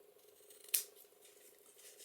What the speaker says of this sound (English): I'm going to trim down on this corner too